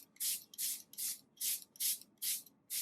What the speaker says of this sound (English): And then the setting spray one last time.